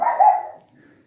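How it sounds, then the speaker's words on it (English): A dog gives one short bark a little way off in a garage during a Harley-Davidson Softail starter motor install, a single clear woof that fades quickly into quiet. "there goes my dog right on cue"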